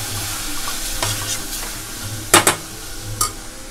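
Masala spices being stirred into a hot frying pan: a steady sizzle with scraping spoon strokes and a few sharp metallic clinks against the pan, close and clear, with no talking.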